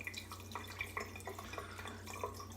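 Water drips and splashes softly as a shaving brush is rinsed at a sink, a faint, close run of small irregular drops over low background hum.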